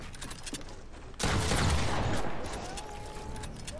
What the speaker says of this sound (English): Go somewhere with this minigun spam.